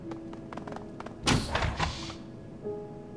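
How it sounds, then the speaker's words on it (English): A heavy security door in Shadowrun: Hong Kong unlocks with a run of quick mechanical thunks, then a loud sliding rush as it grinds open over ambient music, ending in a quieter tonal hum. "There's a loud series of thunks, and the door slides open."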